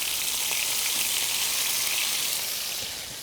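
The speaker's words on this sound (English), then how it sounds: "because while the steak sears" Steak searing in a hot pan gives a steady, loud, broadband sizzle that holds evenly for about three seconds and then tapers slightly at the end, with no talking over it.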